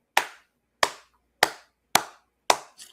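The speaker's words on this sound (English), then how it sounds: "You already know that worthy clap" One person gives five sharp, evenly spaced hand claps, loud and close, celebrating a Lakers win over the Timberwolves, with a faint softer tap trailing after the last.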